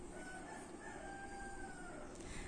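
A four-year-old rooster crows once in a long drawn-out call, close and fairly clear over a steady background hiss, with no voices.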